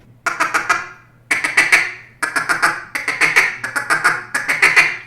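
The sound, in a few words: duck call feeding chuckle imitating a mallard hen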